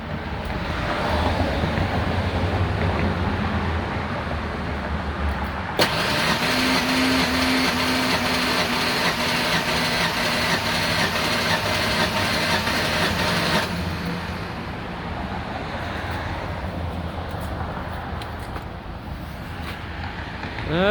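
A Ford Ranger 3.0 engine cranks over during a compression test, a steady loud churning drone with a rising whine in the middle stretch before dropping to a lower idle-like hum.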